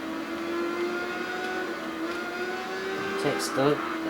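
An Aprilia motorcycle engine in the Tourist Trophy racing game holds a steady, buzzing drone at a constant pitch. A voice talks over it near the end.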